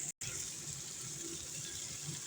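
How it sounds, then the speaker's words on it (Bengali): Diced pointed gourd (potol) frying in hot oil, a steady even hiss and sizzle heard close up, continuous for a couple of seconds apart from one brief cut to silence near the start. "এবার ওই তেলেই পটলগুলোকে ভাজতে দিয়ে দেবো।"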